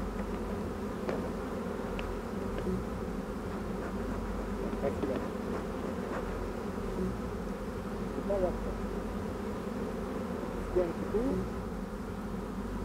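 Honeybees buzz steadily while foraging in the countryside near the hive, a continuous insect drone that stays close and even throughout with small swells.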